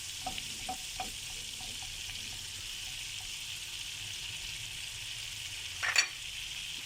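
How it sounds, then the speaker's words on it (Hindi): Oil and butter melting in a pan and being stirred for a butter garlic and egg omelette, a steady soft sizzle with faint scraping and a brief clatter near the end. "थोड़ा सा इसमें हम ऑयल शामिल करेंगे और बटर शामिल करेंगे। अच्छे से हिला लेंगे, पिघला लेंगे इसको अच्छे से।"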